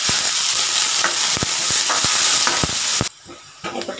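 Onion frying in hot oil with cumin and dried chillies sizzles loudly and steadily, with repeated stirring scrapes, then the sizzle abruptly drops to a quieter hiss.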